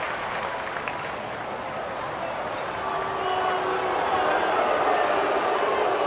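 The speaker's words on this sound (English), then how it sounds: "Fans booing" Baseball crowd booing at a San Diego at Pittsburgh game: a dense, steady roar of many distant voices that swells louder midway and holds.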